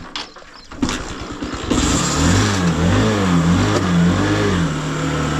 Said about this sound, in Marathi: फायनली लय स्ट्रगलनंतर गाडी चालू केलेली आहे